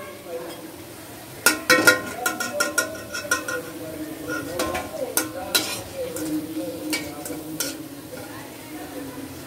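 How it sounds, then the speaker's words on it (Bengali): Radish pakoras sizzle in hot oil in a pan, a steady frying hiss broken by repeated clinks and scrapes of a utensil turning and lifting them. "এখন আমরা এক এক করে এগুলো সব ভেজে নেব"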